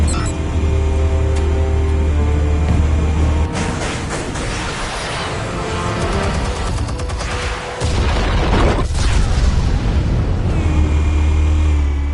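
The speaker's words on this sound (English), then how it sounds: "Explosives armed. Fire when ready." Explosives detonating in Batman: The Telltale Series, a loud sustained roar of blasts with deep rumbling booms, crackling debris and a second heavy detonation midway, no talk.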